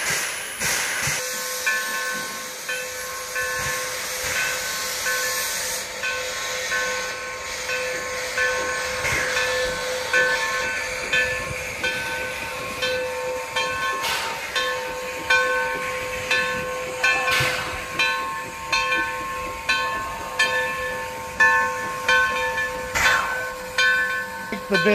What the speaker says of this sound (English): He's going to back the train up now.